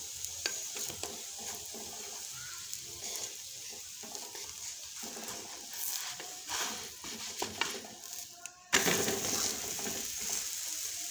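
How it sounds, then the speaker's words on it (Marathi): A laccha paratha crisps in oil or ghee on a hot pan, giving a close, continuous sizzle with scraping and pressing as it is turned, and a louder burst of frying near the end. "मस्त असं खरपूस भाजून घेऊ"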